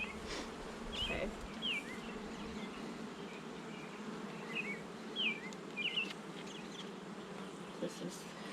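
Honey bees buzz steadily around an open hive frame during a swarm-cell inspection, a continuous close drone with a few louder individual fly-bys.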